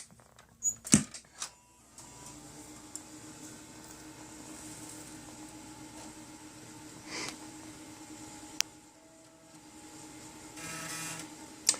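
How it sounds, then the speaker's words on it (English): A Compaq Presario 701CL laptop booting with a floppy drive running, a low steady mechanical whir and hum with sharp clicks and seeks near the start and scattered ticks, close and without speech. "We got a little epic floppy noise there going"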